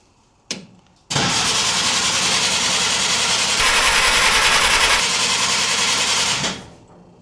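A 1950 Willys M38 engine, left sitting for 15 years, gives a brief crank and then catches and runs loudly and steadily for about five seconds before shutting down, heard up close with no talking.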